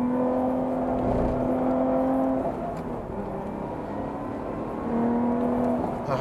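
A Lotus Evora GT430 on a race track, its engine a steady, strong drone with sustained tonal whine, easing slightly mid-pass, then pulling up again, heard from inside or near the car.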